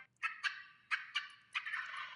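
Wild turkey tom gobbling in a turkey hunting call advert, three distinct loud rattling gobbles in quick succession, clear and close with no voices.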